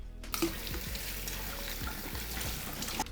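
Potatoes are washed under a running tap, a fairly quiet, steady stream of water with small splashes and handling knocks through about three seconds, and no speech.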